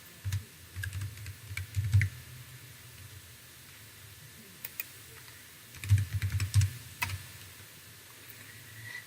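Numbers being typed on a computer keyboard at a desk, two quick bursts of close key clicks separated by a quiet pause, over a soft steady room hiss.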